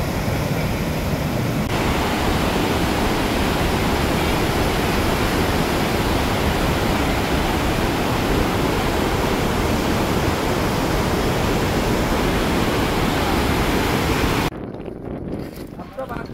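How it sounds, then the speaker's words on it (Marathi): The Dhuandhar waterfall on the Narmada river in Madhya Pradesh, set among marble rocks, gives a loud, steady, close roar of falling water that continues without a break and then cuts off abruptly near the end. "या धुमाधार धबधबा याचा आम्ही आता इथे आनंद घेत आहोत."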